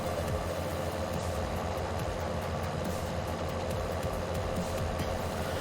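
Tractor engine idling in Farming Simulator 19, a modded tractor with altered gear sounds, giving a steady low droning rumble that stays constant and fairly loud throughout with no talk.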